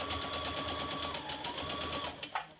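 Sewing machine stitching a straight seam on an apron pocket, a steady close whirring hum with rapid rhythmic needle ticking, slowing and stopping near the end with a small click.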